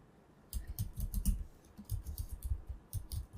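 Rapid, close clicking of keys on a computer keyboard while code is typed in, quick irregular taps starting after a short pause and continuing steadily with no speech.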